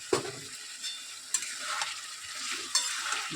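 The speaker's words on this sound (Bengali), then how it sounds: "দিয়ে আমি একটু নাড়াচাড়া দিয়ে নিই" Spice and tomato paste fry in a pan of chicken curry with a dense, bright sizzle. Three sharp spatula scrapes break through it at intervals, and there is no speech.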